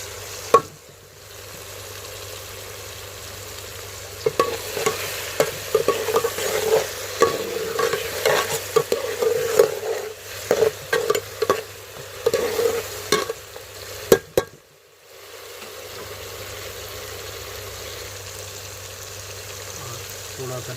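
Green chilies tossed into a hot pan while cooking chana daal, giving a soft sizzle with scraping stir strokes that come in uneven bursts, then fade to a quiet hiss.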